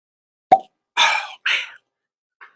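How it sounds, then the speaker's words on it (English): A cork pulls free from a Garrison Brothers single barrel bourbon bottle with one sharp pop, followed by two rubbery squeaks and a faint final squeak in otherwise quiet surroundings. "I have never been disappointed by a Garrison Brothers cork pop"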